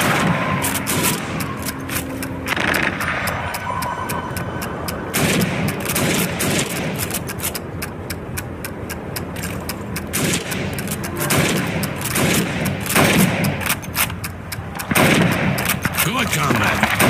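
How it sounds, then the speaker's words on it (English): Rapid rifle gunfire fills a Call of Duty 2 Red Army training range as helmets are shot under time pressure, repeated sharp cracks and booms with game ambience and occasional voices. "You have 15 seconds to shoot the helmets."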